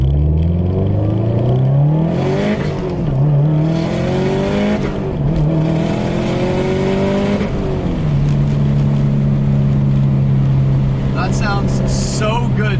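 A modified Subaru STI with an external wastegate, high-pressure fuel pump and air-oil separator drives past with a loud, rumbling boxer engine climbing through gears, revs rising and dropping repeatedly before settling into a steady drone.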